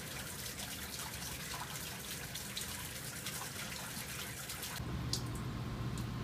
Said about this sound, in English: The water flowing over the weir.